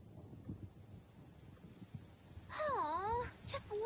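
Rain and low thunder rumble quietly in the background of the video game Tales of Berseria, and a wavering, wail-like tone rises over the storm partway through.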